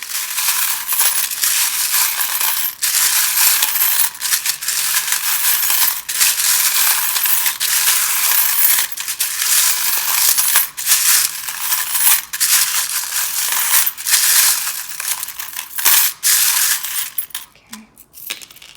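Tarot charms or gnome figurines shuffled together in a loose, continuous clatter of small hard pieces knocking against each other, loud and close for most of the stretch, dying away near the end.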